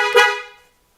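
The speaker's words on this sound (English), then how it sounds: "tested the horn, everything works" A Honda S2000 car horn with a newly installed aftermarket steering wheel gives one short, loud, close honk lasting well under a second, then cuts off into silence.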